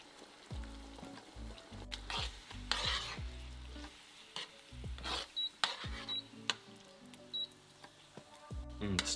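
Curry and paprika stirred in a frying pan, a spatula scraping and clacking in uneven strokes over a light sizzle, close and fairly quiet with a few brief higher clicks and no speech.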